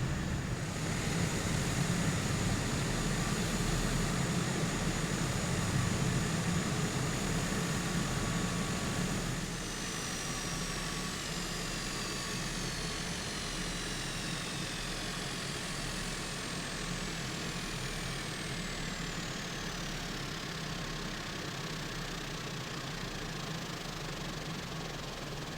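A Pacific Aerospace P-750 XSTOL turboprop in the Microsoft Flight Simulator 2020 game taxis with a steady, droning engine hum and a high whine, continuous and even, easing slightly partway through.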